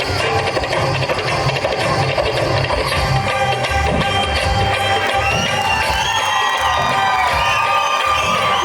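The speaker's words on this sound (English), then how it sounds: "Please welcome them with a big round of applause" Audience at a school annual day cheering and clapping loudly after a dance performance, a dense, sustained crowd roar with whoops and children's shouts throughout.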